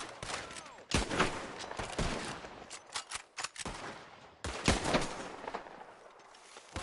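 Gunfire in the video game Red Dead Redemption 2 crackles in repeated loud, sharp bursts and volleys, with short gaps and a heavy cluster near the middle, over a steady background din.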